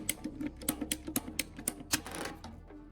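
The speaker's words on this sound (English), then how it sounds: "I'll use pipe cutters to precisely cut the PVC pipe." A pipe cutter working through PVC pipe gives a series of close, rhythmic clicking ratchet snaps, about a dozen in quick succession, then a softer scraping finish.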